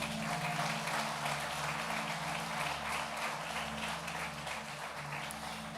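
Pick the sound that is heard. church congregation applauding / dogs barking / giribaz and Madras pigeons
church congregation applauding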